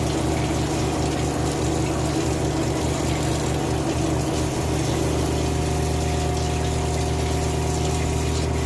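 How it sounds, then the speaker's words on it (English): Hot water runs from a tap inside a food truck, a steady dense rush with a pump humming beneath it that continues for the whole stretch, close and fairly loud. "So this should turn on the hot water."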